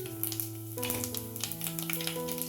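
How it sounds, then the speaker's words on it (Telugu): Mustard and cumin seeds sizzling and popping in hot oil in a pan, a dense steady crackle close up with a continuous tonal hum underneath, no talking. "ఆయిల్ వేడయ్యాక ఒక 1/2 టీ స్పూన్ ఆవాలు,"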